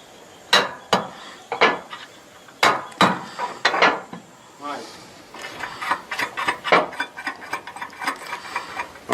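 Metallic clicks and ratcheting from a bolt being adjusted on a solar panel rail on a house roof, sharp close taps at first, then a denser run of small clicks, with voices faintly under it.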